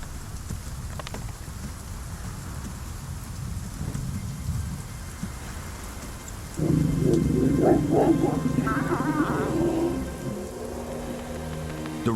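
Rain falls steadily in a constant soft hiss, and about halfway through a tonal animal call rises over it and then fades.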